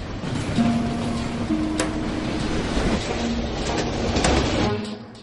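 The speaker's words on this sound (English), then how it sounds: "The train was speeding." A runaway train speeding downhill rumbles loudly along the tracks with a steady roar, air brakes on full, faint clicking of wheels and a thin metallic squeal, no voices.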